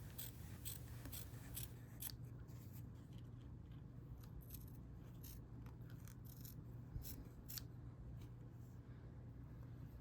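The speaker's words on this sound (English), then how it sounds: "we're going to trim away our excess fabric from that line" Scissors trimming excess fabric along a stitched trim line for a quilted scarf made on an embroidery machine: faint, repeated snips over a steady low hum.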